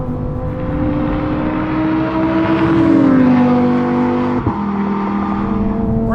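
A Lamborghini Huracan STO's engine revs hard as it accelerates on a road, a loud close roar that climbs in pitch, dips briefly at a gear shift, then pulls again.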